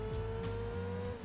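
A race car engine in the Gran Turismo 2 video game drones at a steady high pitch as it drives along Tahiti Road, with short whooshing bursts that repeat roughly every half second, loud and continuous with no talking.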